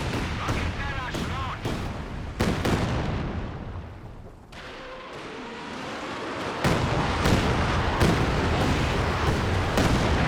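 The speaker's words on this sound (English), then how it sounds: "artillery pieces making noise and the rockets landing" Artillery pieces fire and rockets land in a barrage in Company of Heroes 2, a series of sharp booming blasts and rumbling impacts spread across the stretch, some near and loud, others softer, with a voice talking over parts.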